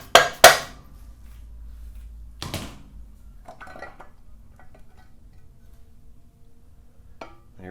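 A Honda CB750 motorcycle engine's valve cover is struck to break it loose: a few sharp metallic taps, two quick ones up front, then scattered lighter knocks and clinks in a quiet workspace.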